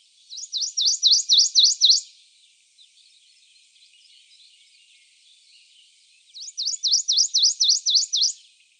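A warbler sings in swampy woods: a quick series of about eight sharp, rising chirps, then a quiet pause with faint background chatter, then a second matching run of rapid notes, clear and fairly close.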